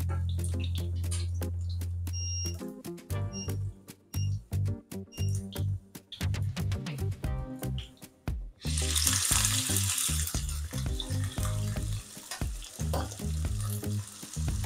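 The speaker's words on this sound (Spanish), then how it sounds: "vamos a echar el ajito para sofreír las gambitas. En este caso son colas de gambones." Chopped garlic and prawn tails sizzle loudly and steadily in a hot pan, with crackling bursts and clinks of stirring, growing to a dense, hissing fry near the end.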